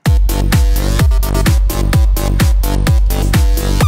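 A mixed electronic dance track plays through a limiter, loud and full, a punchy kick thumping on every beat under sustained synth chords.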